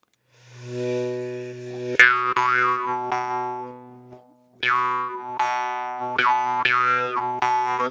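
A brass Gorka jaw harp twangs alone, sustained drone with sharp plucked attacks, a pause midway, then several more rhythmic twangs.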